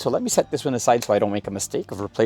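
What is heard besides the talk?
No distinct noise like a dog, phone or traffic.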